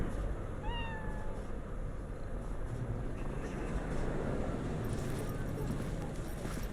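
A cat meows a few times, short rising cries early on, over the steady city background noise of the Cyberpunk 2077 game.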